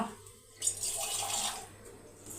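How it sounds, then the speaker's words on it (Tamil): Water pours steadily into a cooking pot for a couple of seconds, a bright splashing stream starting abruptly and fading slightly toward the end, with no voices. "கொஞ்சமாக தண்ணி விட்டு"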